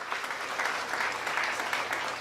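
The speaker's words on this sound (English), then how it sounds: "How about another round of applause for the mayor of Pioneer Village, Gary Emsweller, and all the great volunteer" Crowd applause at the Indiana State Fair, steady dense clapping throughout a short stretch, fairly close and loud.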